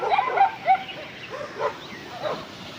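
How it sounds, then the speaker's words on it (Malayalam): Dogs bark and yip in short bursts at Coonoor, several calls spread over a few seconds at moderate distance against quiet outdoor background. "എത്ര പട്ടിയാ?"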